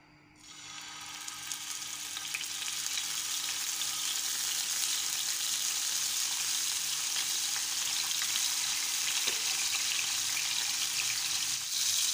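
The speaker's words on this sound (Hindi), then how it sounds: "ऑयल गर्म हो जाए तो इसमें हम फ़िश फ्राई करेंगे।" Fish is frying in about three tablespoons of hot oil in a frying pan. A close, steady sizzle starts right away and holds evenly to the end, with one faint tap partway through and no talking.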